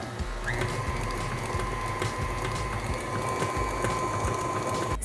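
A stand mixer whips Swiss meringue buttercream at high speed, a continuous close mechanical whir with a rapid rattling rhythm and faint tonal hum, steady from start to finish.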